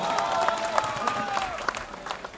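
A mushaira poetry-gathering audience in Kandivali claps in a moderate burst of scattered claps, while a voice carries on faintly underneath.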